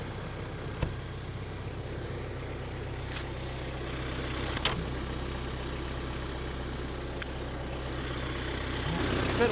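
A tractor engine with a hydraulic top link runs steadily during land prepping and brush cutting outdoors, a close low idling rumble with occasional clanks and knocks, swelling slightly near the end.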